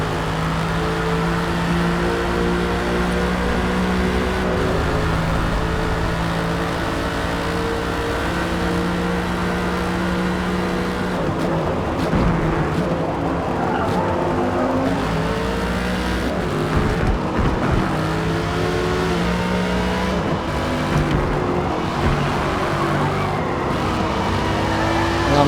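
Race car engines in the video game Forza Motorsport, a Lamborghini and a Mercedes among them, roar loud and steady throughout, with sustained high revving, shifting pitch and tyre squeal as cars jostle side by side.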